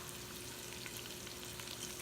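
Garlic and bacon frying in a pan for a keto tomato sauce, a steady dense sizzle that runs unbroken and fairly quiet for the whole two seconds, with no voices.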